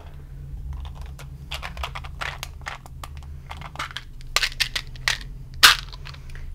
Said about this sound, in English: Okay, so we're rolling the 4th set of dice